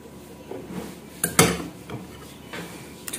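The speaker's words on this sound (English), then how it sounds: "after grating it, I'm going to transfer the quantity I need into another bowl" Grated cucumber is scraped and moved into another bowl in a kitchen, giving a few sharp clinks and scrapes of utensil on bowl against a quiet background, with one louder knock near the middle.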